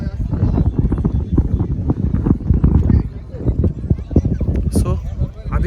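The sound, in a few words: horse hooves clip-clopping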